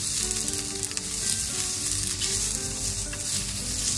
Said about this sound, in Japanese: 今度はね、ピーマンとちくわを炒めるよ